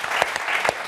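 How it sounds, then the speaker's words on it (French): A studio audience on a French football talk show claps in a dense, steady burst of applause, brief and fairly close, with no voices over it. "Et ça aussi, ça mérite des applaudissements."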